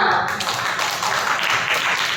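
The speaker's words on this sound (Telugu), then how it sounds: "గట్టిగా క్లాప్స్ పెడదామా?" Children at a Sunday school clap loudly together, a dense burst of fast, overlapping hand claps held close and steady for a couple of seconds.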